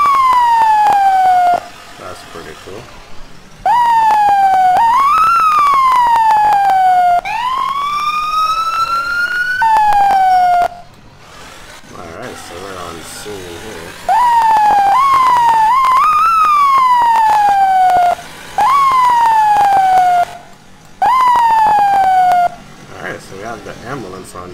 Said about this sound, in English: St. Luke's ambulance over there.